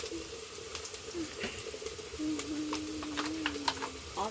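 Ginger-onion paste fries in a pan as turmeric is added, cooked the home-style way in a village kitchen. A low, quiet sizzle runs under thin scraping and stirring sounds.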